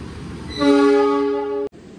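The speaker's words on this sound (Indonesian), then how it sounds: "Nah, ini dia lokomotif langsirnya." A diesel shunting locomotive at Yogyakarta station sounds its horn in a single loud, sustained blast that lasts about a second and then cuts off sharply. A quieter rumble of the station lies beneath it.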